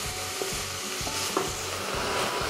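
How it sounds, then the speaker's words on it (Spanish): Onion and carrot sautéing in a pan for homemade leek soup, a dense continuous sizzle with a spoon pushing the vegetables around in a regular rhythm of soft scrapes. "la cebolla ya se va pochando y quedando transparente"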